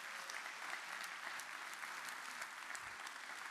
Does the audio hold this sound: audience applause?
yes